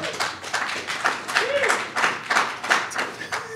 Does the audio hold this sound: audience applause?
yes